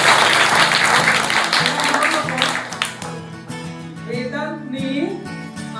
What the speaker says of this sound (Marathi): वेदांसाठी टाळ्या.